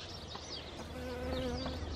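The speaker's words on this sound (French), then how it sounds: "Il y a des abeilles qui butinent" A close, steady buzzing of bees foraging on flowers hums continuously, a few insects droning near the microphone with rising and falling pitch.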